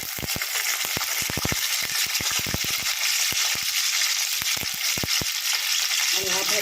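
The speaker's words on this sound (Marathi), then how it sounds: "तेल आपलं गरम झालेलं आहे त्यामध्ये थोडंसं आपण टाकूया जिरं त्यानंतर हा कढीपत्ता" Cumin seeds and curry leaves hit hot oil in a pan with a loud, dense sizzle and rapid crackling pops close by, continuing steadily throughout.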